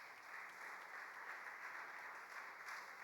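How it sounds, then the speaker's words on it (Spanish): A church congregation at a Spanish-language general service applauds in praise, a steady wash of distant, faint clapping that holds evenly throughout with no speech over it. "¿Cuántos le dan un aplauso al Señor Jesús?"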